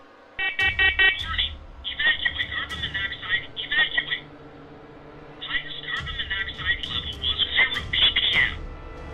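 A smoke alarm going off by itself sounds shrill, stuttering electronic beeps in bursts, with talking and low rumbling heard alongside them.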